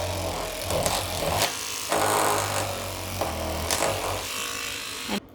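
A toothbrush-style powered head with its bristles cut off and sandpaper fitted to it, sanding into corners, gives a steady close buzzing drone with short surges as it presses against the surface.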